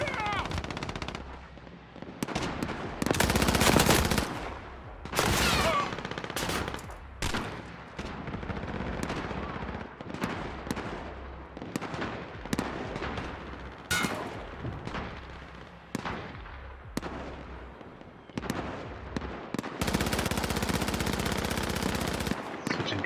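Dense bursts of automatic gunfire and single shots from a Call of Duty match, loud and close, with rapid volleys and brief pauses that run throughout.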